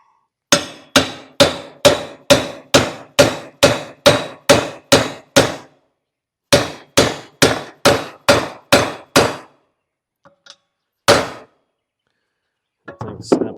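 Hammer blows drive a U joint bearing cap into place on a Bush Hog 286, with two fast rhythmic runs of sharp metallic clangs split by a pause, then a few scattered taps and one last strike, loud and close.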